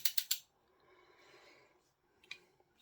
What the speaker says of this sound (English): Nice ratcheting mechanism on it.